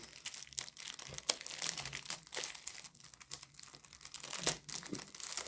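A Temu diamond painting package is unwrapped close up, with continuous crinkling and crumpling of plastic packaging, punctuated by sharper rustles and tearing sounds, with no voices.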